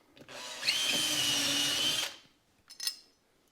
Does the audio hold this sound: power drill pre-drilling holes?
yes